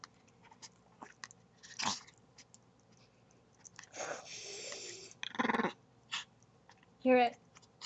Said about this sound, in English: She growls at me a lot.